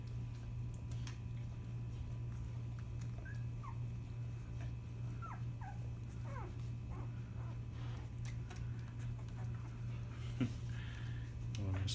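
Newborn puppies about ten to twelve days old whimper and squeak in soft, high, scattered cries over a steady low hum, with faint ticking nearby and a person speaking quietly now and then.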